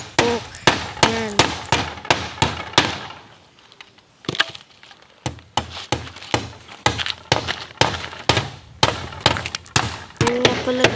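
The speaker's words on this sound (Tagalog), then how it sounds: "tuloy-tuloy pa din ako sa pagpupukpok. Ayan, pukpok ako ng pukpok." Rapid, steady hammer blows on hollow bamboo, close and loud, with a brief pause midway before the rhythmic knocking resumes.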